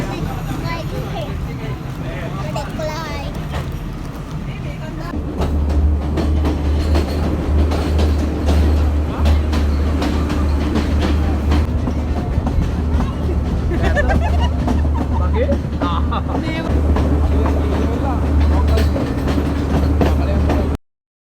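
Inside a passenger train in Sri Lanka's hill country near Nuwara Eliya, a steady rumble with clickety-clack rhythm grows louder partway through, while passengers chatter nearby throughout.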